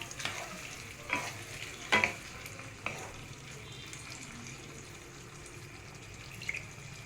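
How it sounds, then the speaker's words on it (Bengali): Paneer being stirred in a frying pan, with a soft, steady sizzle and occasional scrapes and clinks of a utensil against the pan, quiet and close. "পনিরটা দেওয়ার পর 2-3 মিনিট একটু নাড়িয়ে"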